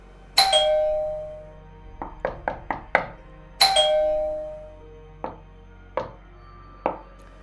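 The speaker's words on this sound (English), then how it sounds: "Then came a knock, followed by another doorbell ring." A doorbell rings with two long ringing chimes, interleaved with quick bursts of sharp knocking on a door, rapid at first and then slower, single knocks, loud and close with no voices.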